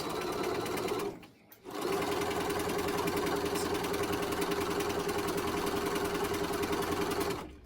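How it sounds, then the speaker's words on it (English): Sewing machine stay stitching the waist of a skirt, a continuous close, loud mechanical whir with a rapid, even needle rhythm, briefly stopping for a moment before running steadily again. "I am stay stitching the waist part of the skirt"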